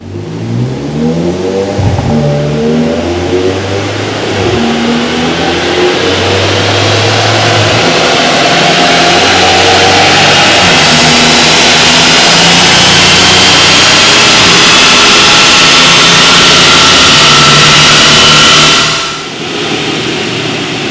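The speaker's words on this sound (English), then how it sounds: "let's give it one more run on the dyno now with this map" A tuned Volkswagen Golf GTI engine revs hard and repeatedly on a dyno, climbing through loud sustained pulls before cutting off abruptly near the end.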